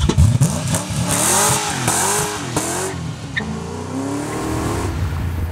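Tuned Mazda RX-7 engine running and revving hard, loud and close, with rising and falling pitch sweeps over a throaty rumble that settles toward a steadier idle.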